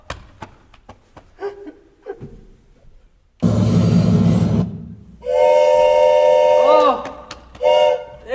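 A steam train pulls into a quiet small-town station, a loud burst of steam hiss followed by long, sustained whistle blasts with a short pause and a final toot, after some faint sounds.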